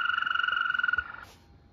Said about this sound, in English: European green toad.